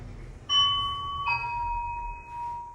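A lift arrival chime in a building that used to be a department store sounds two clear bell tones about a second apart. The second tone rings on and fades slowly against a low hum, close and with no talking.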